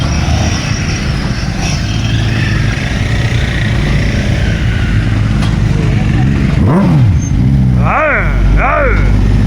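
A group of motorbikes sets off on a ride in Coorg, Karnataka, a loud continuous drone of many engines with passing revs and rising, falling whines near the end, with people talking over it.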